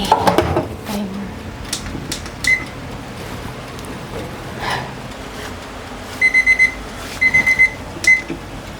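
A kitchen timer beeps while banana bread bakes, giving several short bursts of rapid high beeps near the end, preceded by scattered kitchen clatter and knocks.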